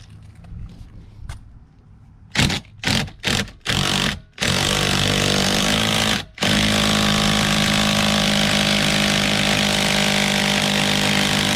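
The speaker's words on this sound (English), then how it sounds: "once you've cinched it down with the drill" A power drill fitted with an extension whirs in several short bursts while tightening a 2009 C6 Corvette steering wheel, then runs in a long continuous high-pitched spin, loud and close, with no talking.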